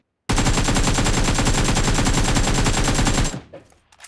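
Sustained rapid automatic gunfire in PUBG Mobile, a loud continuous burst of shots lasting about three seconds that cuts off abruptly and leaves faint residual noise.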